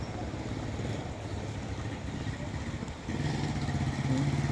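Steady rumble of a small tricycle motorcycle engine nearby in floodwater, revving a little louder near the end, with faint clatter.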